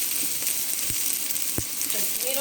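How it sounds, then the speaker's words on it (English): Onions sizzle steadily in a pan, a soft continuous frying hiss broken by a couple of faint clicks or stirs, with no voices. "we're just going to listen to the onions as they sizzle"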